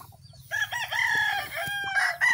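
A fighting rooster crows close by, one long drawn-out call with a rising start and sustained wavering tone, over faint low background murmur.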